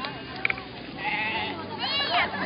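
A black sheep bleats on a farm with a few wavering calls, close by, while people talk over and around the animal.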